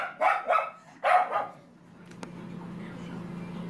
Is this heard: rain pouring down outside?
no